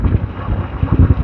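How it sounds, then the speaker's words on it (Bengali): Wind rushing and buffeting the microphone during a morning motorbike ride through Dhaka traffic, a loud, gusty low rumble that runs without a break. "আর হালকা হালকা বাতাস লাগতেছে"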